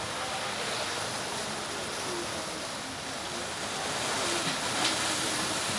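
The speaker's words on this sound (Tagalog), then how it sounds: "salpak ng alon." Waves wash against the shore by the Sai Wan swimming shed in Kennedy Town, Hong Kong, a soft, continuous broadband surf hiss with a gentle swell near the end, quiet and without voices.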